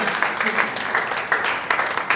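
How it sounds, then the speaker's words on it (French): Spectators at a spelling championship awards event clap together in a dense, lively burst, a steady crackle of many hands filling the room with slight swells in intensity. "Ils vont avancer sous les l'applaudissement donc des spectateurs"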